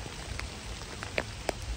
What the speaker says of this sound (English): the wind, the rain.